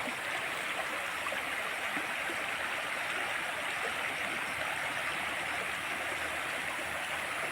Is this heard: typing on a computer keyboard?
no